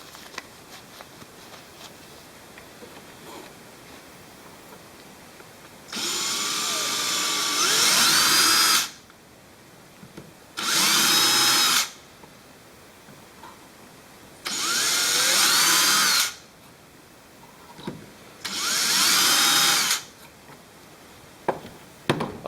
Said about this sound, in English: I just gotta drill these a little bit deeper